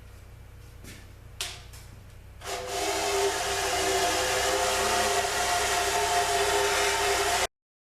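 A drill bores holes through a sink to fit a 3/8 bolt while mounting a pneumatic hose reel, starting with a few short bursts before a loud, steady whine runs for about five seconds and then stops abruptly.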